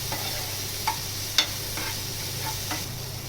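Cabbage and peas sautéing in a pan give a steady, gentle sizzle, with a few light spoon taps and stirring clicks scattered across a few seconds.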